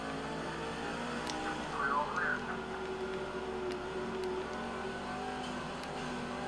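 Race cars drone and rev in the NASCAR 05 Nextel Cup Series video game at Dodge Raceway, a steady, moderately quiet engine hum with a brief rising surge partway through.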